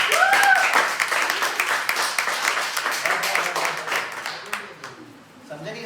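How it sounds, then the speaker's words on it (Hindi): Students clapping in a class 12 physics lesson, a rapid patter of many hands that gradually thins out, with voices talking under and after it. "तालियां बजाओ चलो।"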